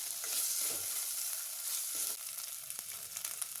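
Half a spoon of ginger garlic paste fries in a pan for paneer butter masala, a steady bright sizzle with scraping stirs from a spoon, close and alone with no talk.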